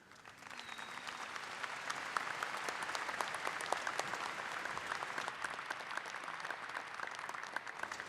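An audience at a Murray State University commencement applauds student musicians. The clapping is dense and sustained, swelling quickly and holding steady in a large hall.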